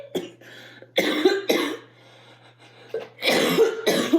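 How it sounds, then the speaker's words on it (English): Several harsh, close coughs in two clusters separated by a quiet pause, with a faint low hum underneath. "I'm still coughing"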